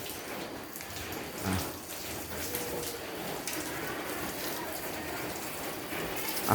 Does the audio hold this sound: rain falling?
yes